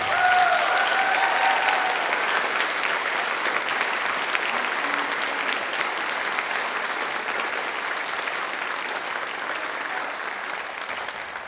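A high school band concert audience claps in sustained applause, a dense, even patter of many hands that stays loud and tapers only slightly, with a brief voice near the start.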